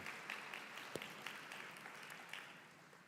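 Applause from an audience at a health and wellbeing awards ceremony, a soft even patter of many hands clapping with a few sharper claps standing out, fading slightly toward the end.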